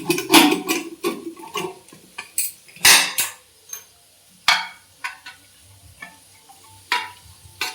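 Spices are sautéed in a pan over a low flame for an egg tarka, with repeated sharp clinks and scrapes of a metal spatula over a faint background sizzle.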